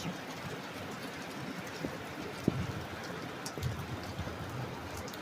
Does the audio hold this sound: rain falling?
yes